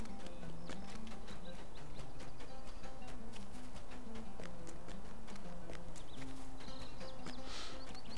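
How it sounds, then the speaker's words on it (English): Hooves of cows crossing a road in the video game LOTRO clop steadily in an irregular walking rhythm over continuous ambient game sound, with occasional bird calls and no talking. "Some cows walking across the road."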